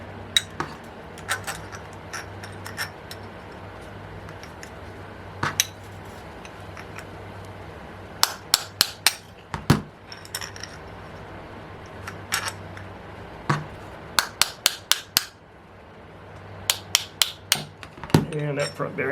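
Sharp metallic hammer strikes on a short nose punch driving the front bearing out of an OS FS 70 Surpass model engine, struck in irregular clusters of single and rapid repeated blows at close range over a quiet background.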